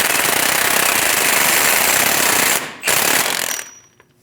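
An impact wrench snugs an axle nut onto the front wheel hub of a 2001-2006 Chevrolet Silverado, giving a loud, continuous rapid hammering burst that breaks off briefly, resumes, then cuts out to near silence.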